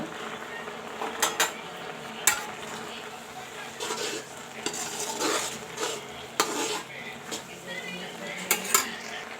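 A spoon scrapes and clinks against a pot as carrot halwa with freshly added cardamom powder is stirred, giving irregular metallic taps and scraping over a soft background sizzle, close and moderately quiet.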